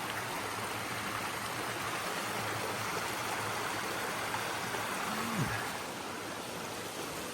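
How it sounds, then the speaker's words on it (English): A tributary of Bourne Brook on the trail near Stratton Mountain flows steadily, a broad, continuous rushing wash of running water close by with no talk. "Coming down here, it's a tributary of Bourne Brook."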